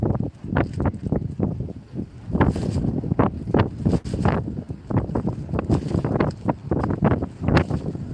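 Strong gusty wind blows across the open Fenit Pier, buffeting the microphone in loud, irregular rushing bursts that continue without pause.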